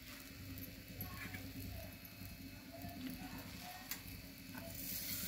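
Flatbread cooking on a hot oiled griddle over a gas flame, a faint, steady sizzle with light intermittent clicks throughout.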